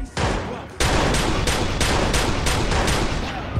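Enemy shotguns firing in the game Watch Dogs, a loud, close series of about nine heavy blasts coming in quick, fairly regular succession over a dense battle din.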